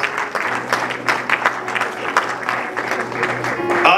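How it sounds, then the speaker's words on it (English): A church congregation at an Assemblies of God anniversary service applauds for a few seconds, irregular claps steady and fairly close, with voices mixed in underneath. "Let's give them once again a hand of applause."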